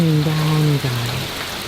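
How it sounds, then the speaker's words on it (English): Heavy rain pours down steadily during a severe thunderstorm, making a continuous loud hiss, with a voice speaking briefly over it. "Look at the rain. It is just pouring."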